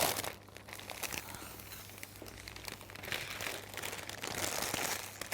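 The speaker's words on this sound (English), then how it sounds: "I then gently start to tease the cellophane in" Cellophane crinkled and tucked by hand around a single-stem cymbidium orchid arrangement, continuous close rustling and crackling with brief louder crunches and a low steady hum beneath.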